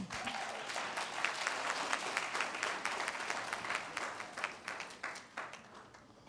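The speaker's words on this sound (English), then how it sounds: "Another round of applause for them." Dense, sustained applause from a large crowd at the Bahamas Diaspora Awards Gala, a steady wash of many hands clapping close by, with a few sharper individual claps standing out as it begins to thin near the end.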